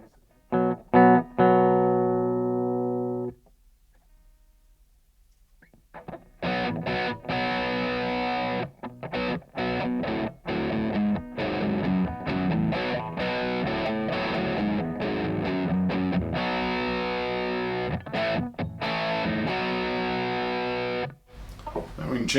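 An electric guitar plays through the distortion side of a Truetone V3 Jekyll & Hyde pedal, giving a thick, Marshall-like overdriven tone: a few sustained chords, a short pause, then loud, continuous chugging riffs with choppy muted stops.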